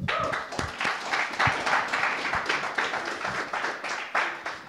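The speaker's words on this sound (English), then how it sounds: "big warm round of applause for Jordan" A live audience gives a round of applause for a speaker at a drinks-and-demos event, with steady mid-level clapping and scattered individual claps for the full stretch and no speech over it.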